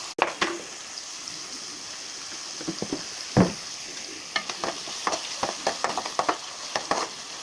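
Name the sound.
onions frying with cumin, dried chili and garlic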